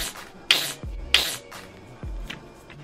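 Wet, sticky squelching and crackling noises, a few separate squishes with soft rubbing between, close and fairly quiet.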